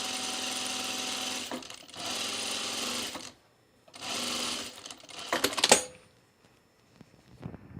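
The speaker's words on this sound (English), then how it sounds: "But I am going to French seam this." Sewing machine stitching a French seam on a dress: three bursts of fast, steady motor whirring separated by pauses, then a short stuttering run and a few quiet clicks.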